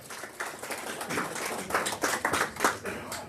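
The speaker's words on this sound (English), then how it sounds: "Please give them a round of applause." A small audience at a state of the county address in a senior center gives brief, uneven clapping close by, rising and falling in short bursts.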